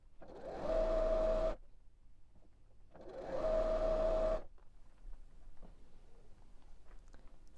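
Two sewing machine runs stitching cotton fabric strips together for a Christmas stocking, each a steady motor whir of about a second and a half with a short pause between, close and clear, followed by quieter handling noise.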